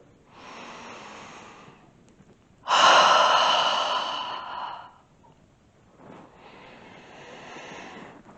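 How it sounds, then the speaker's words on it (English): A deep breath during a fertility yoga practice: an audible breath, then a louder long inhale lasting about two seconds, then another soft breath, all close and quiet with no talking. "So take a deep breath in."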